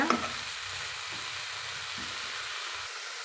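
Spinach sprinkled with turmeric being stirred in a hot pan, a soft steady sizzle with faint scraping as it is turned, close and even, with no one talking.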